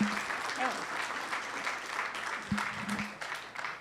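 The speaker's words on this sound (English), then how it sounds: "Let's give them a round of applause." Attendees at a city council proclamations session applaud the Corpus Christi Fire Department with steady, moderate clapping across the room, while a few voices and faint tonal sounds come through underneath.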